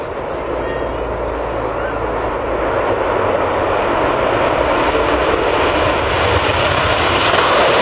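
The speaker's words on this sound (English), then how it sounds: "While the Concorde was a majestic machine, it produced a ton of noise on takeoff and landing" Concorde jet engines roar on takeoff or landing, a loud, continuous, broadband rumble with a hissing top end that holds steady and swells slightly over several seconds.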